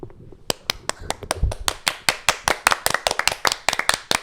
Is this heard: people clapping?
yes